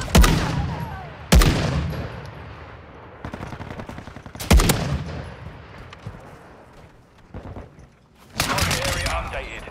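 Semi-automatic gunfire in a video game, with loud close single shots and short rapid volleys spaced across the stretch, each ending in a booming decay.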